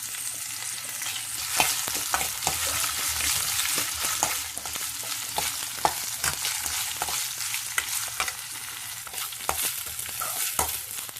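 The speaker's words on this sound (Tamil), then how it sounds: "வெங்காயம் நல்லா கொஞ்சம் பொன்னிறமாக ஆற வரைக்கும் நல்லா வதக்கிக்கோங்க." Onions with green chillies and curry leaves sautéing in a pan, a steady close sizzle with regular scraping stir strokes and no talking.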